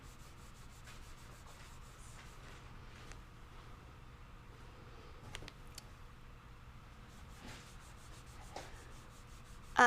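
Residue is rubbed off a hot clothes iron with a quiet, continuous scratchy scrubbing, a faint rasp of repeated strokes close by with a small bump at the end.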